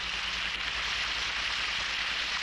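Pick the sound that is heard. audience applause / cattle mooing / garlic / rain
rain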